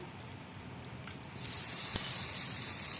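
Spice paste poured into hot oil with fried tempering for a vegetarian doi potol, bursting into a loud, rising sizzle that spreads into a steady hiss, with no one talking.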